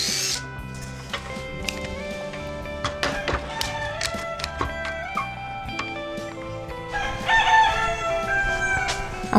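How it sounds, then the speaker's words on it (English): A rooster crows repeatedly at a 1930s cottage, its calls rising over a busy, layered background of tapping and household noise, fairly close and loud. "he's crowing because he hears me talking to the camera"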